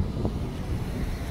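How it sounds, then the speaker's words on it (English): Wind buffeting a camera microphone on a downtown Dartmouth street, a low rumbling gusty roar filling the brief stretch with no speech. "You got a little bit of wind blowing up here"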